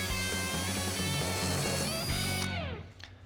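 A Matco Tools step drill bores through an aluminum deck lid on an autocross Camaro, a steady whining, grinding drill sound close by that runs for about two and a half seconds, then winds down and stops.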